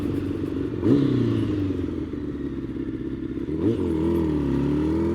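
A sportbike engine revving during a stage two wheelie: a low, steady motor drone that surges twice as the throttle opens, then settles back, heard from fairly close without talking.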